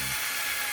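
A power drill driving a self-drilling screw into steel, a steady loud high-pitched whine heard up close for under a second.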